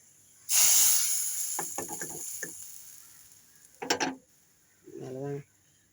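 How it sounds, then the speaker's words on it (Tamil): Vadagam hitting hot tempering oil for a brinjal tamarind kuzhambu gives a loud burst of hiss and crackle that fades over a few seconds, followed by brief voices. "வடகத்தை போடுறேன் பாருங்கள்"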